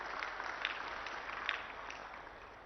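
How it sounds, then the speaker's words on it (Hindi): Faint, steady clapping of an audience at a political rally in Punjab, with a few sharper claps standing out. "एक जोरदार ताली बजा दीजिए सब लोग इस बात के लिए।"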